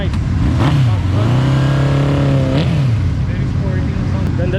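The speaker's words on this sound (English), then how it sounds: "Orion exhaust on this Yamaha XSR." A Yamaha XSR 155 motorcycle fitted with an Orion aftermarket exhaust revs up and holds a steady high note before dropping back, loud and close in a busy roadside fuel station, with chatter and other traffic around it.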